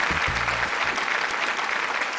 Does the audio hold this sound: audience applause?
yes